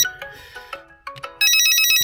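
Phone ringtone sounding near a Coros Dura Maps watch paired to the phone, a short burst of plucked melodic notes followed by a bright sustained electronic ring, close and clear with no talk.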